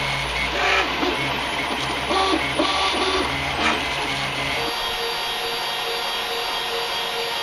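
A 3D printer printing a vernier caliper box in ABS, finishing up with a steady whirring motor hum and stepped, tonal movement sounds that stop partway through, leaving a quieter hiss.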